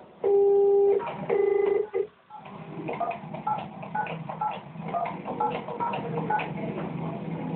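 A telephone being dialed for a call: two long, loud tone bursts in quick succession, then a brief gap and a run of quieter, irregular tones and clicks on the line.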